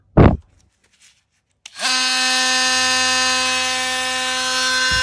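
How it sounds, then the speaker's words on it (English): A Milwaukee M12 Fuel oscillating multi-tool cutting into nail-filled wood: after a brief thump and pause, a loud, steady, high-pitched buzzing whine starts and holds without a break. "compared to the performance of the new M12 Fuel Multi-Tool"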